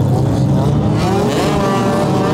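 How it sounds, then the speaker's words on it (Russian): Several car engines roar and rev steadily and loudly at an outdoor survival race on a muddy track in wet weather, a continuous dense motor drone with shifting pitch and some voices mixed in. "Ревели моторы, бушевал огонь."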